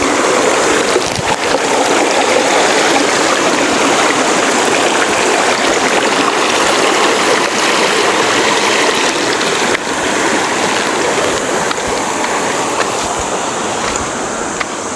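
A river stream in rural Tarlac flows loudly and steadily, a dense unbroken rush of water close by with no talking.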